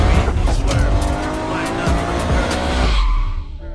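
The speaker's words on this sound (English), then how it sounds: "today we're going to be watching 150 miles per hour drifting in Saudi Arabia" Car drifting at about 150 mph on a motorway in Saudi Arabia, loud engine roar with sustained tire squeal and skidding, close and intense, fading out at the end.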